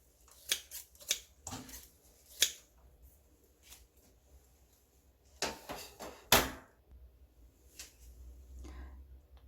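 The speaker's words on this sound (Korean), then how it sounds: "드시기 좋을 만큼 가위로 숭덩숭덩 썰어주세요." Kitchen scissors cut through soaked seaweed for beef seaweed soup in a quiet kitchen, a series of sharp close snips coming in irregular bursts with pauses between them.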